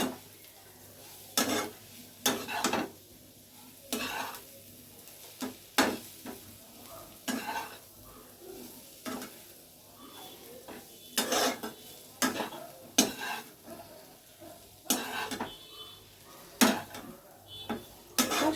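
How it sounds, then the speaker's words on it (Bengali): Breakfast ingredients with butter and oregano stirred in a pan, a spoon scraping and clinking against the metal in irregular bursts over a soft, steady sizzle, close and clear with no talk. "দেখো এবারে এইগুলো এর সাথে দিয়ে আমি নেড়ে নিচ্ছি।"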